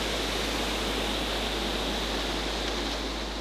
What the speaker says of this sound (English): we need to get away from these waterfalls.